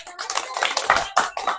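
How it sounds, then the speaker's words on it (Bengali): During a mother-and-daughter Ludo game, a few people clap in short uneven bursts, the close, sharp hand slaps coming in a quick cluster. "হাততালি হবে সুন্দর"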